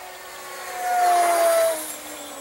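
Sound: foamboard RC racer plane motor flying at half throttle

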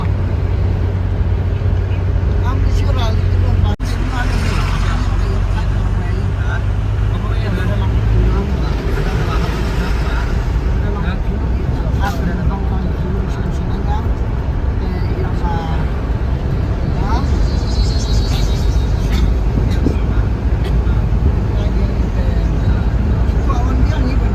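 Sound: shared Tata Sumo taxi ride to Shillong

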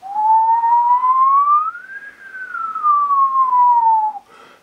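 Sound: person whistling

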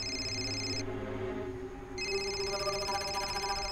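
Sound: phone ringing

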